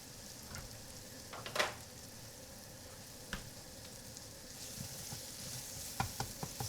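Tomato paste frying in a pan, a soft steady sizzle with occasional louder crackles and spatters, close by but faint, alone without talking.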